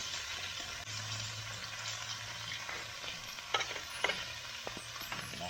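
Leftover sausage fries in a pan at a backyard hot tent campsite, giving a steady low sizzle under a few short scraping clacks as it is stirred.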